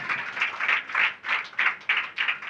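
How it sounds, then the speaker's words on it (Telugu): Church congregation applauding together, a steady run of bursty hand claps with a rhythmic pulse, moderately close and filling the room, with no voices over it. "చప్పట్లు కొట్టాలి మరొకసారి"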